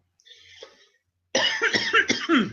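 A faint throat sound, then a short burst of harsh, close coughs in quick succession.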